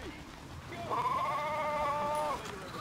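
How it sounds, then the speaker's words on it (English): A goat bleats in the snowy mountain sports game Steep, one sustained, wavering bleat of about a second and a half at moderate loudness over game ambience, with a player talking around it. "And I can hear the goat."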